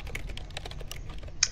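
Quick, uneven clicking of fingers typing on a computer keyboard, close and clear with no voices, a slightly sharper key strike near the end.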